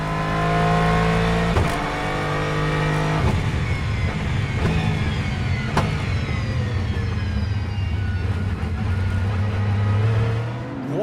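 LMGT3 race cars leave the pit exit at the start of qualifying at Circuit of the Americas, engines droning loudly and steadily with rising revs and gear-change surges as several cars accelerate away close by.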